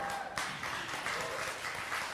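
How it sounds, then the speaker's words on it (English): A congregation at a Sunday spiritual celebration applauds singers after a song, steady clapping from many hands, fairly quiet and continuous for a couple of seconds. "give them a round of applause"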